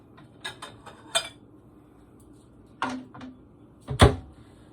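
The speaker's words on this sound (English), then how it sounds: "I'm going to get me a bowl up here." A bowl is taken out from among the dishes in a home kitchen during stir fry cooking: a few light clinks of crockery, then a louder ceramic knock near the end, close by with no talk.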